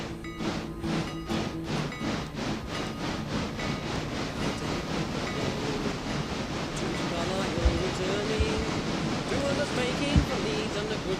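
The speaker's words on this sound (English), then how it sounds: "Train passing at speed." A train rushes past at speed through wind-driven rain, with a steady roaring rumble and rhythmic clatter at the start, heavy wind and rain noise mixed throughout.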